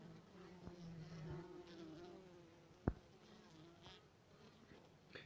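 Honey bees around their queen give off a faint, low buzzing hum with a few passing wingbeat drones and one sharp knock midway, recorded quietly outdoors.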